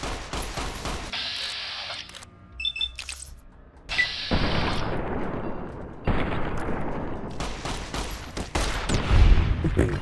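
Rapid bursts of weapon gunfire in Fallout New Vegas, loud and close, firing in sustained volleys with short breaks and a few sharper shots across the stretch, with no talking over it.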